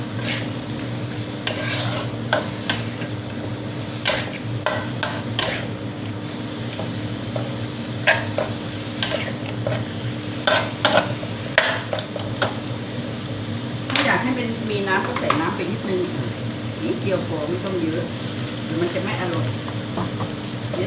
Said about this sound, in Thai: เขาผัดไปอย่างนี้เลย เขาจะผัดไปอย่างนี้เลยนะคะ